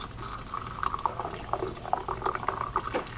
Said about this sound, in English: I'm going to put some hot water into our small jar.